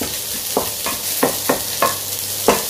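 Onions frying in a pan with tender beef for a Filipino dish with cauliflower and broccoli, a soft steady sizzle under about six sharp stirring scrapes of a utensil at a regular rhythm, close and alone.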